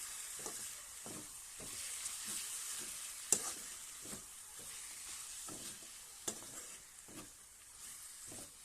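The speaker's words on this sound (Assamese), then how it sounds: "বিলাহীখিনি দিয়াৰ পিছত আকৌ এবাৰ ভালদৰে লৰাই দিছোঁ" Taro greens and tomatoes stirred in a pan on the stove, a steady run of soft scraping strokes every half second or so over a faint continuous sizzle, with a couple of sharper clinks of the utensil against the pan.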